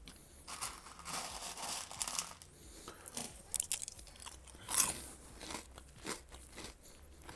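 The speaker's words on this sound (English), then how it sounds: "Hope you enjoy the sound of me chewing Cheerios." Cheerios cereal being chewed close to the mic, with irregular crunchy bites and soft crackles coming in bursts, separated by short pauses.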